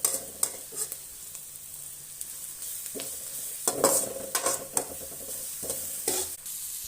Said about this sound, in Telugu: ఇక్కడైతే చిత్రాన్ని అయితే కలిపేస్తున్నాను